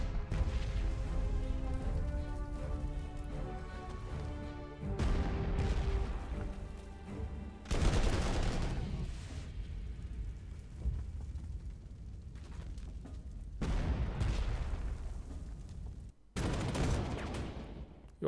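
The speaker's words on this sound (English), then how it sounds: "Artillery fire." Artillery fire in the World War II strategy game Panzer Corps 2 at Kursk, several loud booming blasts in separate bursts, each followed by rumbling decay and crackle, set against a faint musical score.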